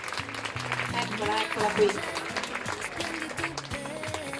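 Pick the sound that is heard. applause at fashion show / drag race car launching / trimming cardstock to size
applause at fashion show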